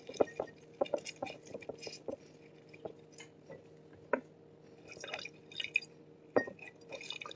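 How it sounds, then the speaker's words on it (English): Juice is squeezed from a lemon by hand without a strainer, making soft, scattered drips and small squishy, wet sounds at close range. "For now, I'm just taking out the juice out of the lemon."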